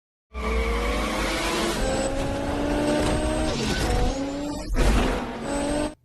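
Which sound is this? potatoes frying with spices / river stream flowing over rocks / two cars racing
two cars racing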